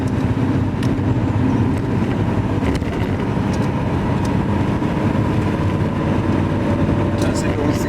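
A Porsche 928 rolls along a public road, its engine and road noise forming a steady, loud drone throughout while a person talks over it.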